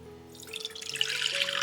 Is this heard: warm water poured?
yes